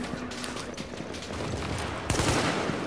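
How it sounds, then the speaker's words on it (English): Dense, continuous gunfire from The Division, rapid overlapping shots with a sharper burst near the end, loud and sustained without any talking. "I'm gonna shoot one"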